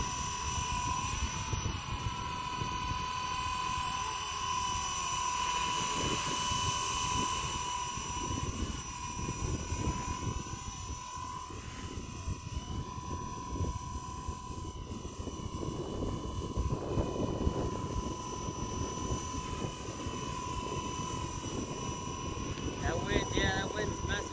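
Steady high-pitched whine of a Blade 230S V2 RC model helicopter hovering nearby on a windy day, with wind buffeting and rumbling underneath throughout.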